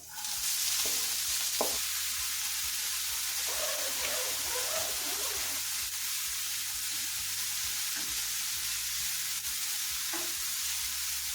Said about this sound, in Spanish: agregamos una cucharada de aceite, puede ser aceite de oliva o el aceite vegetal que tú prefieras. Vamos a poner a sofreír nuestra cebolla.